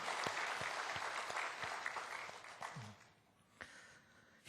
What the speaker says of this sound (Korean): 우리 성가대원도 우리 감사 박수 한번 합시다.